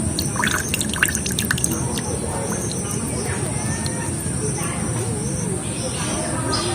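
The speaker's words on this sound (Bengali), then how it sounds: "যে লেবুর রসগুলো বার করে নিয়েছি সেগুলো ছাঁকনি করে ছেঁকে নেবো।" Fresh lemon juice is strained through a kitchen sieve, a steady close trickle with bright dripping splashes, with faint background sounds but no clear speech.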